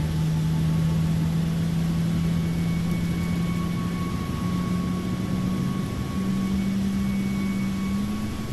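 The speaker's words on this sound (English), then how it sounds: "Listen to that engine." Engine 1 of an airliner in Microsoft Flight Simulator 2024, running just after start, holds a steady droning whine with a faint high tone above it. The drone is loud and continuous and slowly rises in pitch.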